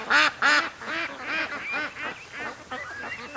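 Adult ducks on the water quack loudly and close by, with around ten honking calls in quick, uneven succession, the first two strongest.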